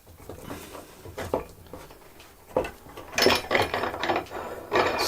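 A wing nut spins onto a wood carver's screw with a washer, giving close metallic rattling and ratchet-like clicks that grow louder and busier in the second half, with no voices.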